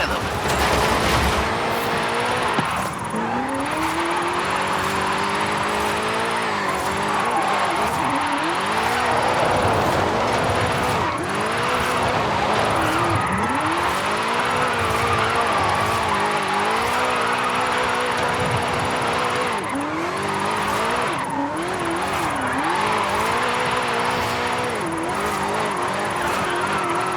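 Car engine revving and tyres squealing through a long drift in Forza Horizon 5, loud and continuous with pitch sweeping up and down as the throttle shifts, game sound alone without voices.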